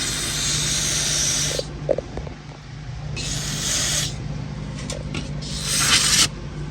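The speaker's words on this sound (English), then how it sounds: "Go do some braking parts cleaner there first." Brake parts cleaner hisses from an aerosol can onto a Nissan Sentra's brake in three loud, close bursts of about a second each. Short pauses with small clicks and clatter separate the bursts, over a low steady hum.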